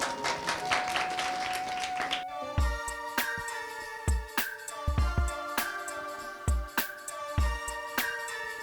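Hearty audience applause at a Kristhu Jayanti church gathering in Jindwari, a dense burst of clapping lasting about two seconds before it stops and rhythmic music with thumping beats takes over.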